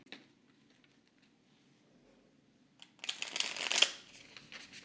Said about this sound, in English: let's do a card shuffle and an animal card pull